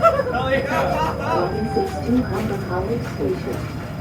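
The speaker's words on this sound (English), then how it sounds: "There's announcements. I think those are coming from the train." A recorded public announcement voice plays over the steady rumble of a Line 6 Finch West light rail train, continuous and fairly loud throughout.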